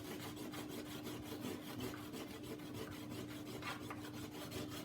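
Oven door glass is scrubbed with a dishwasher tablet to lift baked-on grease, a quiet, continuous rhythmic rubbing with regular back-and-forth strokes and no talking.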